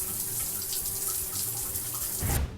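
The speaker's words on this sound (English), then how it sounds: "Mehul immediately goes to the bathroom and takes a shower to cool down his mind." Steady rush of shower water running in a bathroom, a continuous broadband hiss that swells slightly near the end before cutting off.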